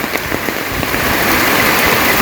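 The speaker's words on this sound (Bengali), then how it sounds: "বৃষ্টি ভালোই নামছে" Steady rain pours down in Bangladesh during the rainy season, a dense, even patter of drops hitting surfaces with scattered sharper splashes, building slightly louder toward the end, with no talking.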